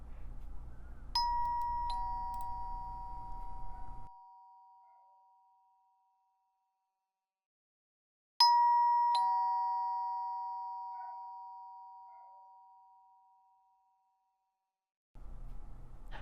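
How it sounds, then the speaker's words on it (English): A home doorbell chimes slowly at night, each two-tone ding-dong ringing out clearly and decaying over several seconds, with long silent gaps before the next press. "my doorbell has been slowly ringing for over a half an hour"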